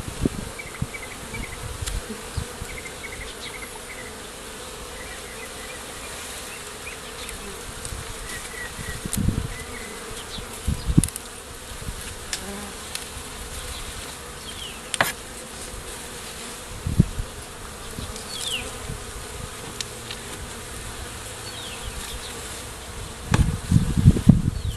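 Bees buzz steadily around an exterminator doing bee-friendly removal, a dense insect drone that runs the whole time with scattered knocks and thumps close by and no talking.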